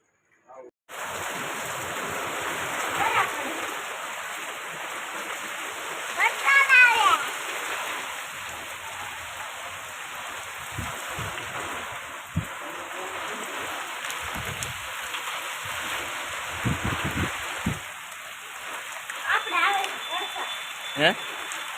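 Heavy rain with hail pours down in a continuous, loud hiss with scattered sharper impacts, and people talk now and then under the downpour.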